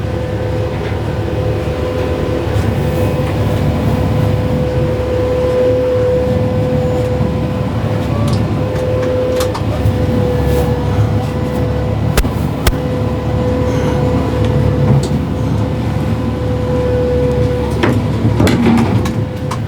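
A tractor runs a Wicked 72-inch brush cutter through brush with a steady, loud, droning engine hum and a constant mechanical whine, and no break in the sound.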